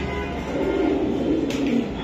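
Silver Giribaz pigeons coo nearby in a low, continuous murmur, with the soft throaty calls blending together under faint background noise.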